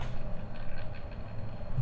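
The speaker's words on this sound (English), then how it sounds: "And that's not a very pleasant fan sound either." A Godox SL-60W LED light's cooling fan gives off a steady, low whirring drone with a rough, unpleasant rumble, continuous and close.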